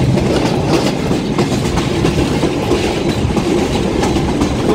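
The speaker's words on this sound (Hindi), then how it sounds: "गुजरात के रेलवे स्टेशन से इस वक्त हमारी ट्रेन गुजर रही है।" A train rolls steadily through Gujrat railway station in Pakistan, its wheels clattering over the rails in a continuous loud rumble with a fast clickety-clack rhythm for the whole stretch, close and dense, with no voices.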